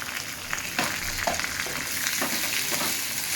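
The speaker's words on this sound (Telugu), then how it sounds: "వేసి దూరంగా ఫ్రై చేసుకోవాలండి" Carrot and green chilli frying in a pan with potato and curry leaves, a steady close sizzle with a few soft stirring scrapes, no voices.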